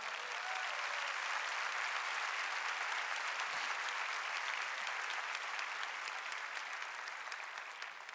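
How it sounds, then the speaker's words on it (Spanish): Sustained applause from a sizable church congregation, dense clapping that holds steady for several seconds and eases slightly at the end. "Dale un fuerte aplauso a tu papá"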